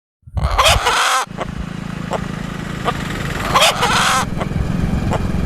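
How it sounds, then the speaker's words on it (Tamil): A rooster crows twice from the background, in two bright, wavering bursts about three seconds apart, over a steady low hum. "கோழி கூவுடுது, பேக்ரவுண்ட்ல கேக்குது."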